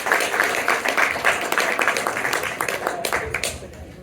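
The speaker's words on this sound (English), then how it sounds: "Round of applause for Mike and Taylor." Audience applause at the ACORN Gala 2024, a dense wash of many hands clapping steadily for about three seconds, then thinning and fading toward the end.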